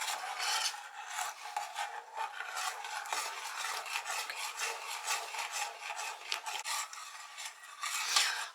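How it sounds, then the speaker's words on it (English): Blueberry syrup simmering in a pan on a stovetop over medium heat, stirred with a continuous rasping, scraping rhythm that runs steadily throughout, close and moderately loud with no talking. "and I'll keep stirring it until it starts to really settle down and it's not bubbling anymore."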